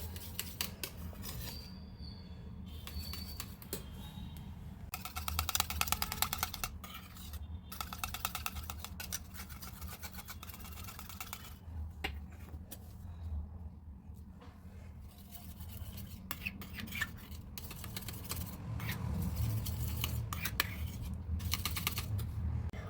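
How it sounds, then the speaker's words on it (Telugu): A spoon stirs a homemade rice water night cream with vitamin E capsules into a paste, giving quiet, repeated scraping and clicking against a bowl in uneven bursts. "ఇప్పుడు దీన్ని మొత్తం మనం ఒక పేస్ట్ లాగా అయ్యేలాగా కలుపుకోవాలి మొత్తం"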